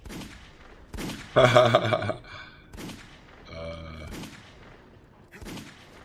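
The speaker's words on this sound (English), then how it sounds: "What are these gunshots, bro?" Several bursts of distant gunfire ring out, including one dense rapid volley, spaced between quieter stretches of background noise.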